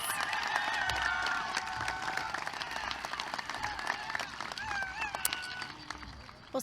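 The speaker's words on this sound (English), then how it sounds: "Can we have another round of applause for Chef Garces?" A graduation audience at a college commencement applauds, a broad, sustained wash of clapping filling the hall, with scattered cheers and shouts rising above it.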